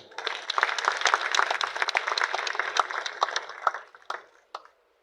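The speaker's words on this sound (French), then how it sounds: "Ok, merci d'applaudir pour vous-même." An audience at a popular theatre event applauds with a burst of dense, fairly distant clapping that thins out and fades to silence after about four seconds.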